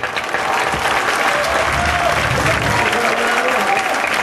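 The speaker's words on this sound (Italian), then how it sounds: "E per questo veramente un grosso applauso a Mario Rossi" Sustained, dense audience applause fills an outdoor bridal costume parade on a runway, a steady close wash of many hands clapping throughout, with crowd voices faintly mixed in.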